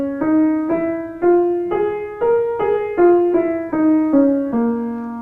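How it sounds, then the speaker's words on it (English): A single melodic instrument plays a blues scale as ten separate sustained notes, each struck cleanly and decaying before the next, stepping up and then back down, loud and close with no talking. "our blues scale sounds like this."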